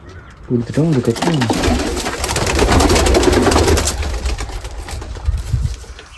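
Pigeons at a pigeon farm coo repeatedly in soft, rolling calls close by, with a busy, noisy background throughout and no other talk in the mix.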